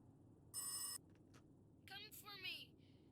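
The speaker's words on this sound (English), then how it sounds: "Once the phone starts ringing," A telephone in the horror game Rise of Insanity gives one loud electronic ring over a low rumble, followed by fainter warbling tones in an otherwise quiet space.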